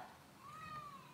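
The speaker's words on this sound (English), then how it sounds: "You meowed to come inside." Indoors, a pet cat lets out one drawn-out meow, faint and slightly wavering, with nothing else happening around it.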